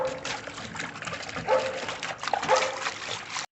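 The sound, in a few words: pug dog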